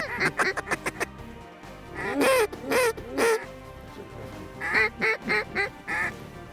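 Ducks and other waterfowl quack in bursts at a stopover spot past the snow line, several loud overlapping calls in quick clusters with pauses between, fairly close.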